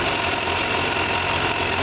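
A 2002 Suzuki Bandit 600 motorcycle engine running loud and close, a steady dense rumble with an even mechanical beat throughout and no pauses.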